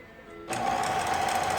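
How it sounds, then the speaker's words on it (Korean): After a brief quiet hum, a 25-year-old Taiwanese-made Lion L372 sewing machine, freshly repaired, starts up and runs steadily with a fast, even mechanical whir, close and loud. "이 재봉틀 25년 세월이 흘렀지만"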